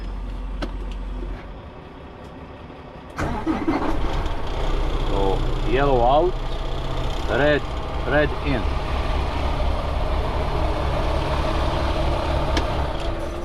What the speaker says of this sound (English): Now let's start the truck.